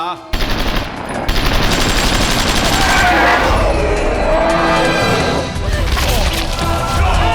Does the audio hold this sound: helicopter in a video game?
no